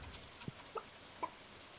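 Chickens in the farming video game Stardew Valley give a few short, quiet clucks, spaced out over a faint, steady background hum.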